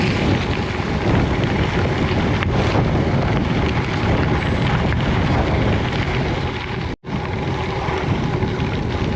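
Strong wind roars across the microphone on a sailing boat at sea on the Baltic, a constant heavy rushing buffet with a brief dropout near the end, loud and close with no voices.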